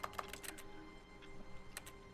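Faint computer keyboard typing in The Stanley Parable video game, a quick cluster of soft key clicks at the start and another pair near the end over quiet room tone.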